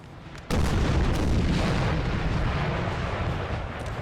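Sustained booming of artillery fire in the Napoleon: Total War battle game, a sudden dense roar of cannon blasts that swells and rolls on continuously, loud and alone without talk.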